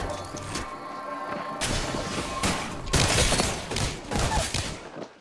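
Rapid Apex Legends gunfire from a firefight, a sustained burst of loud cracking shots with several heavier volleys, close and dense, running the whole stretch without talk.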